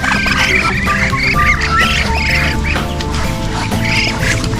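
Ducks quack constantly nearby, many calls overlapping in a busy, noisy chorus.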